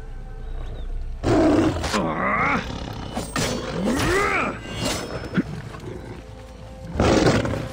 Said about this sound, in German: Ey, da ist ein Löwe! Da sind mehrere Löwen!